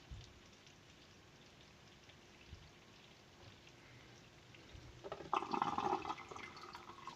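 Aquarium water is pumped out of a 30-litre tank to drain half of it, a faint steady watery trickle that swells into louder splashing and gurgling toward the end, with no voices.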